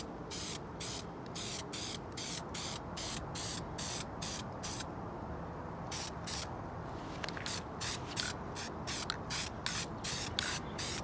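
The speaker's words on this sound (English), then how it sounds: "Go ahead and spray in it a little bit." Dupli-Color engine enamel is sprayed onto a 1MZ-FE valve cover in a long run of short hissing bursts, close up and evenly paced, with one brief pause partway through and no talking.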